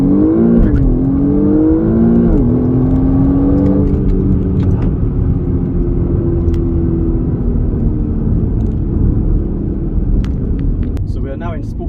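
A BMW M135i F40 launches hard on a country back road, its engine roaring loud and close with rising revs and a gear-change dip before settling into a steady strong pull.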